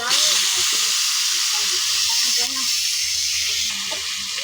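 Bamboo shoots with garlic sizzle in a hot pan. A loud, steady frying hiss fills the whole stretch, with faint speech underneath.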